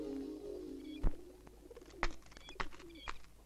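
A pigeon coos in a comedy scene, with several low, throaty calls spaced about a second apart, each with a sharp accent, heard fairly close against faint background tones.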